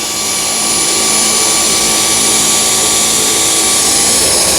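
A Dyson V10 cordless vacuum cleaner runs steadily on a matted rug, giving a loud, continuous high-pitched whine and motor roar that holds level throughout, with no voices.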